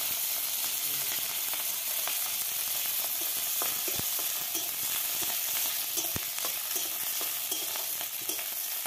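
Chopped chili and garlic sizzle loudly in hot oil with bay leaf and whole cumin in a pan over a clay stove, where taro greens are being cooked, with a dense continuous hiss and scattered spatula knocks.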